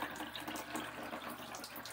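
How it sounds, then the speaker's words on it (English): Hot water running from the tap in a 2009 Kingston camper trailer, a soft steady hiss of flowing water that holds evenly at low volume, with no talking. "Turn on the hot water, you gotta wait a little bit for it to get hot."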